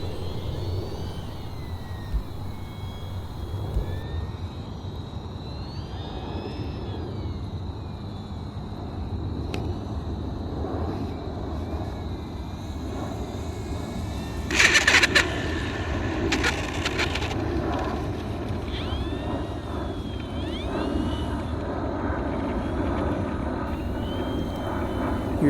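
E-flite RV-7 1.1 m RC model airplane flying aerobatics through a knife-edge spin, its electric motor whining and shifting in pitch at moderate distance over steady outdoor background noise.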